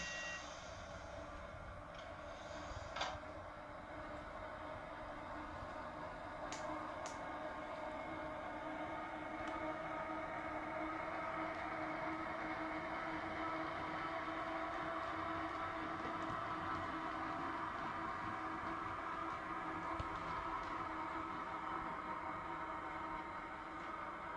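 A model train runs steadily on its track with a continuous mechanical rumble and hum, joined early by a few faint clicks and a brief tone.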